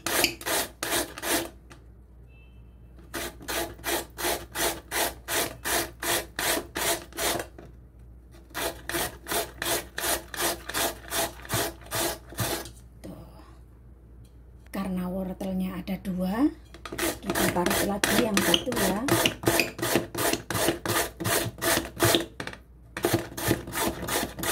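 Carrots are rasped on a grater into long strips for vegetable fritters: rapid, regular scraping strokes come in steady runs with short pauses, close and clear, with a brief voice partway through.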